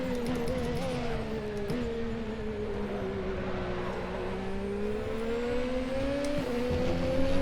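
A formula race car in the RaceRoom racing game, the Formula RaceRoom US at Mid-Ohio, holds a continuous high-revving engine whine under throttle, with brief pitch drops at gear shifts and steady loudness throughout.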